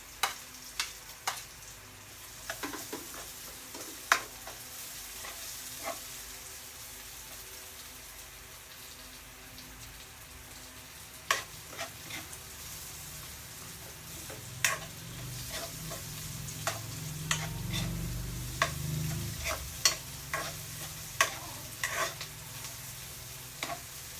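Garlic and onion sautéing in a pan for a Kapampangan sautéed bottle gourd dish, a faint soft sizzle under repeated sharp clicks and scrapes of a utensil against the pan, with a louder bubbling stretch near the end, no talking.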